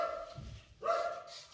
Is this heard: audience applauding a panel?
no